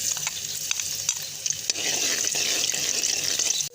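Garlic sizzles and crackles steadily in hot ghee as it browns, with occasional stirring scrapes, close and continuous, no talking.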